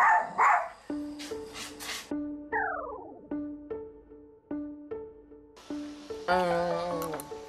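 Excited house dogs bark in short bursts near the start, mixed with playful musical sound effects and tonal stings that carry through the rest of the stretch.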